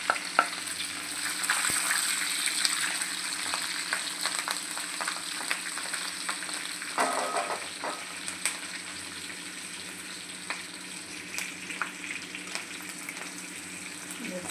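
Curry leaves and green chili fry in hot oil with mustard and cumin seeds, a continuous crackling sizzle with occasional spoon clinks, fairly close and steady throughout.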